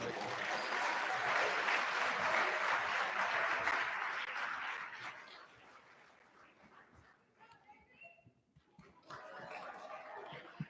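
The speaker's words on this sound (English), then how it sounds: "Let's give them another round of applause, please." Applause from an audience at a college of engineering end-of-year celebration, greeting award winners: a dense round of clapping that holds steady for several seconds, then fades, with chatter and scattered claps continuing behind it.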